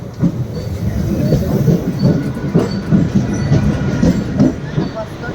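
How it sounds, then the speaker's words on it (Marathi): Train arriving at a Mumbai railway station, a loud, close rumble with rhythmic rolling thumps of wheels over rail joints, steady throughout. "ट्रेन आली बघा आता."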